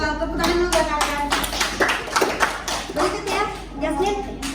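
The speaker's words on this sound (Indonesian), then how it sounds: "Tepuk tangan dulu buat kalian." Children in a classroom clap their hands together in a lively, dense round of applause that stays steady and close throughout.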